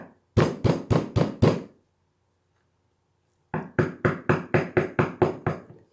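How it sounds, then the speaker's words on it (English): Two bursts of firm knocking on a wooden door, five quick raps, a pause of about two seconds, then eight more raps in a steady rhythm, loud and close with nothing else heard. "Peter ran to the house of his friends and knocked on the door."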